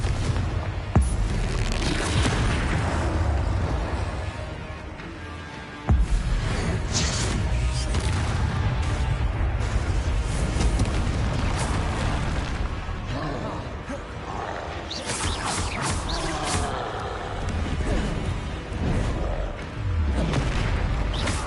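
Repeated fiery Confringo spell blasts in Hogwarts Legacy, loud booming explosions and crashes going off one after another during combat, with a voice shouting over them and a sharp, heavy burst standing out near the middle.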